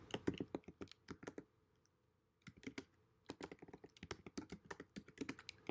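Someone types on a computer keyboard in quick, close bursts of clicky keystrokes, pausing briefly midway before resuming at a steady, busy pace.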